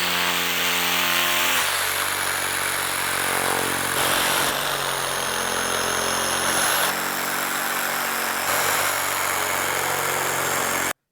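A power tool trims a homemade reusable rubber IDPA target, its loud motor whine droning steadily with a few brief dips and shifts in pitch as it cuts, and no talking.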